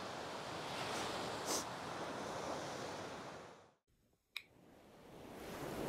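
Sea waves wash steadily onto Selsey Beach with a broad, rushing surf roar that briefly drops away to near quiet before swelling back, a sharp click and some wind buffeting mixed in.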